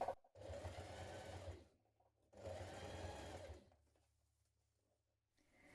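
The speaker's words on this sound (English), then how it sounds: "So we're stitching around that elastic again, but it's now enclosed." A sewing machine stitches around enclosed elastic on a gymnastics leotard in two even bursts of rapid whirring, each about a second and a half long with a pause between, then a short third start at the end.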